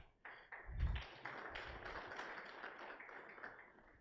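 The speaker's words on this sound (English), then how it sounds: "Okay, a round of applause, please." Conference audience clapping fills the room as steady, even applause from many hands, led in by a single low thump.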